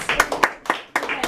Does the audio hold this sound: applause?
yes